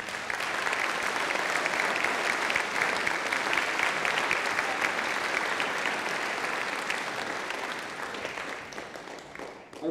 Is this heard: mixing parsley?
no